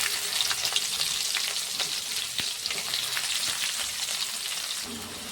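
Onions frying in hot oil in a pan for a soybean gravy, a dense continuous crackling sizzle with scattered pops and a couple of stirring knocks, close and steady throughout.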